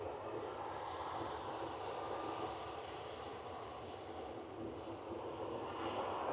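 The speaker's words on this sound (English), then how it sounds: "about to spool up in front of us. Should be nice and loud with these CFM 56 engines." Steady, loud roar of a jet airliner's CFM56 engines spooling up at Manchester Airport, building and holding, broad and rumbling, with no voices.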